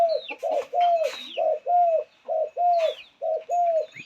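A spotted dove coos in a steady series of short, hollow notes, about nine in a row, close and clear with faint background chirps.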